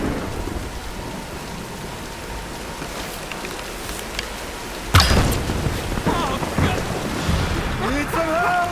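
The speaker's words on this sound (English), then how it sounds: "let's wait out the storm" Steady rain and a thunderstorm in the Tomb Raider 2013 video game, with a sharp, loud thunder crack midway followed by rumbling, all over a continuous wash of rainfall.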